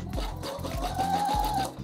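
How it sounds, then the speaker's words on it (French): Close sewing machine stitching elastic onto swimsuit fabric, a quick steady run of needle strokes with a humming motor, alone and fairly loud. "Et je vais venir coudre sur le côté gauche de mon élastique."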